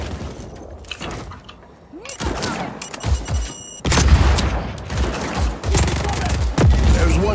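A signal jammer is blown up in the video game Just Cause 4 amid a barrage of gunfire and heavy booming explosions. The blasts are loud and repeated, with a big burst near the middle, and some voices are heard underneath.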